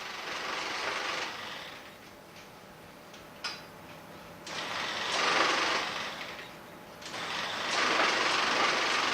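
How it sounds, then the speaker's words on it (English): A punched card reproducer machine runs with an intermittent start-stop card movement, a rhythmic mechanical clatter that swells in bursts and eases between them, with sharp ticks in the quieter gaps. "This reproducer machine was used to make copies of all or parts of cards, and could also be connected to tabulators to produce summary cards."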